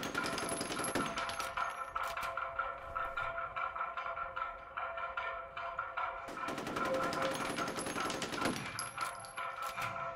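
Automatic weapon fire from the shooter game F.E.A.R. Extraction Point, a loud rapid burst in the first second, then a long sustained volley from about six to nine seconds, with a steady rattle of rounds in between.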